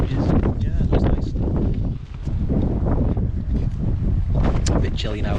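Strong gusting wind buffets the microphone at a wild camp, loud and continuous, with people talking over the rushing noise.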